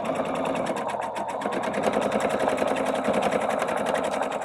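A sewing machine stitches quilt pieces together with a fast, even mechanical chatter, running close and continuously throughout with no speech.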